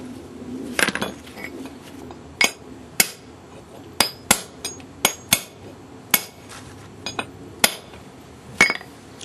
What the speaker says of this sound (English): a few finishing taps here to get it nice and squared up right to the edge